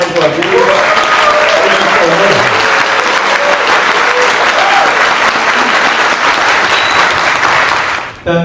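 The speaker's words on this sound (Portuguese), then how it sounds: "Palmas para ele mais uma vez." An audience at the MSX Summit 2025 in São Paulo bursts into loud, sustained applause and clapping for several seconds before it cuts off abruptly.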